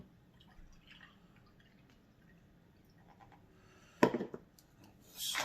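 Fifteen ounces of beef broth poured into a bowl for a brisket rub: after a quiet stretch, a short splashing gush, a pause, then a steadier liquid pour at the end.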